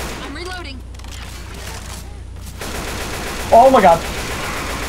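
Bursts of gunfire in the co-op zombie shooter Left 4 Dead come as rapid, loud automatic volleys close by, with a heavier stuttering burst near the end. A player's voice exclaims over the shooting.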